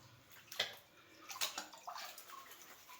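Water sloshes and splashes as a gold pan is shaken and washed in a river, with intermittent swishes and drips in irregular bursts, close but fairly quiet, no talking.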